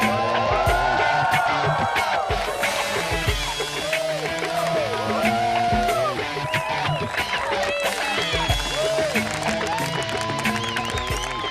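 Crowd cheering and whooping at the unveiling of a Year One Burt Reynolds Edition Trans Am, a loud continuous mass of voices with shouts rising over the din throughout.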